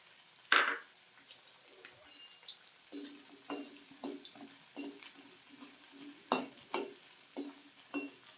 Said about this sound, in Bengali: তেলটা গরম হয়ে গেছে এবার বিউরির ডালের বড়ি ভেজে রেখে নেব ওই তেলে